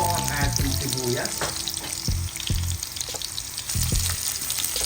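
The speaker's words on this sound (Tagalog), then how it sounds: "Ginigisa na po natin ang ating bawang, sibuyas at ang ating luya." Garlic, onion and ginger sauté in hot oil for carabao adobo, a loud close frying hiss broken by several clattering stirs of a spatula against the pan.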